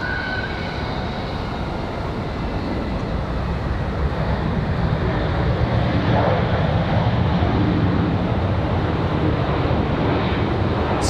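A Southwest airliner from Chicago Midway touches down at Raleigh-Durham International, heard as a broad, distant jet roar that swells gradually and holds steady, with no talk.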